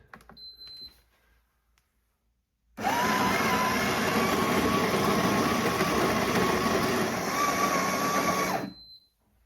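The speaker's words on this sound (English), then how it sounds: "So let's press start grind now and it'll grind our coffee beans for us." A Ninja Luxe Cafe coffee machine grinding coffee beans, a loud steady whirring grind lasting about six seconds after some quiet handling noises, then cutting off abruptly.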